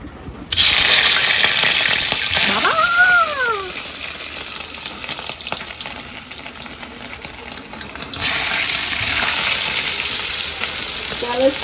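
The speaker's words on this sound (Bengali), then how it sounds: "তো ইলিশ মাছ ভাজতেছি" Hilsa fish sizzles loudly in a hot frying pan, the hiss kicking in within the first second, easing through the middle and swelling again near the end, with a brief warbling whine rising and falling early on.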